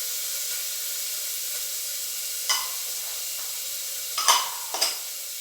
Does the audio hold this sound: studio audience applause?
no